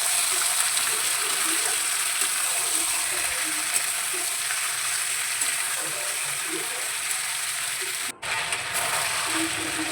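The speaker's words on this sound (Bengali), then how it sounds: "পেঁয়াজের সঙ্গে চিকেনটা আমি বেশ কিছুক্ষণ টাইম নিয়ে ভাজা করে নেব।" About 500 grams of chicken frying with onions in a pan, a steady close sizzle and crackle that continues evenly throughout.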